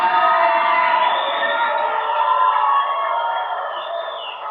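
Audience cheering, whooping and applauding loudly at a talk to vote for a contestant, a dense sustained crowd roar that slowly eases off.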